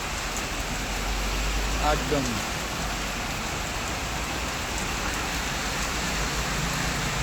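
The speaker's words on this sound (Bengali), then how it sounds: "কাদের কাদের ওখানে বৃষ্টি হচ্ছে কমেন্টে জানাও। আমার এখানে তো প্রচুর হচ্ছে" Heavy rain pours down onto a flooded street in a dense, constant hiss, with a voice speaking briefly over the downpour.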